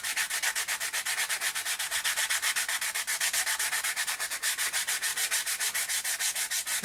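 Rapid, rhythmic back-and-forth sanding strokes on a 3D printed resin part scrape steadily and evenly, close up, with no voices.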